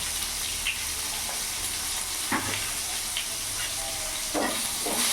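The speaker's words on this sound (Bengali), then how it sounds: "ভালো করে নাড়াচাড়া করে একটু লাল লাল করে ভেজে নেব।" Khoira fish fries in a pan with salt and turmeric, a close, steady hiss of sizzling oil with occasional louder spits and stirring scrapes.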